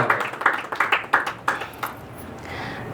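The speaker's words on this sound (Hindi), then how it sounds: "जोरदार तालियां।" Applause rises after a poetry recital as a small audience claps in a quick run of sharp, close claps that thin out and fade into a faint background hum.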